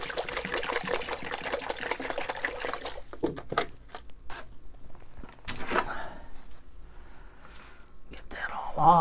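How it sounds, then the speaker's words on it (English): Plant roots are swished and shaken in a bucket of water to wash the soil off, giving irregular splashes and trickles, first a dense continuous wash, then scattered sloshes and drips with quiet gaps. "take my bucket and fill it with some water so we can get most of that stuff off, the soil off the roots"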